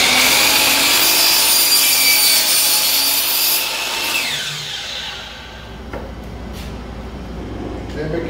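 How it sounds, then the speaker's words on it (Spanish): A hand saw cuts through a wooden door molding piece with loud, close, continuous rasping strokes that fade midway, followed by a few light knocks as the cut finishes. "la acomodo donde pega la sierra, el punto de la sierra, ahí. Entonces aquí corto mi pieza."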